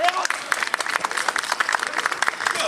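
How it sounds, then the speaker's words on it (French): At a regional dog show on Réunion, a crowd claps for a dog in a lively burst of dense, rippling applause, with voices mixed in beneath. "Voilà, vous pouvez l'applaudir."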